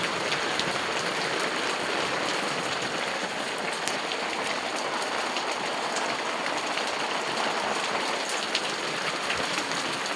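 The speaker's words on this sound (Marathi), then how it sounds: "खूप छान असा पाऊस पडला." Heavy first monsoon rain of May pours down in rural Konkan, a dense, steady hiss of drops drumming on surfaces with no voices.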